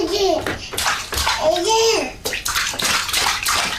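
A 9-month-old baby babbling in a bathtub, a few short voiced syllable bursts with rising and falling pitch, close and clear, with soft water sloshing and splashing around them.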